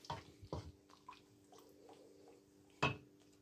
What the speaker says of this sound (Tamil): இப்போ கொஞ்சம் தண்ணி நான் கலக்கிறேன்.